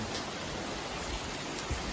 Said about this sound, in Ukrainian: Незважаючи на те, що йде ось такий дощ.